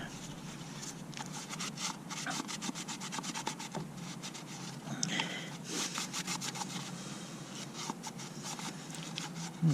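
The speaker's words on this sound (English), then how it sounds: "I'm just going to use some alcohol wipes and wipe it all down and get it all clean." Alcohol wipes scrubbing inside the air filter area of a 2006 Yamaha Royal Star motorcycle, a faint, continuous rubbing and swishing with quick repeated strokes, close up and without talk.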